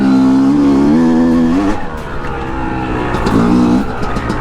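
A dirt bike engine revving hard on a fast, flowy Colorado trail, loud and close, its pitch climbing and dropping through two strong rev surges.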